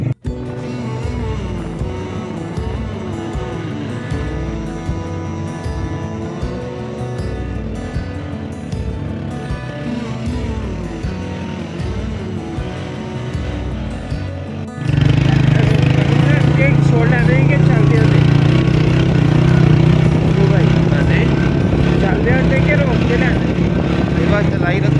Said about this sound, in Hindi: मोटरसाइकिल का रेत पे चलाने का भी अपना एक्सपीरियंस है भाई